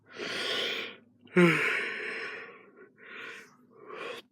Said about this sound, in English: Sorry about that, had a yawn.